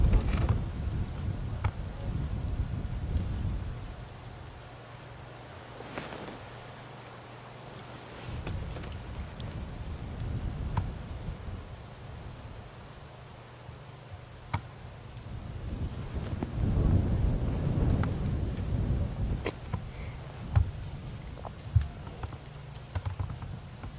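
Strong wind gusting and buffeting a microphone at night on an African safari drive, a broad low rumble that swells and fades in waves, with occasional faint knocks and rustles and no talking.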